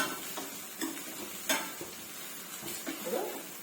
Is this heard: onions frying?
yes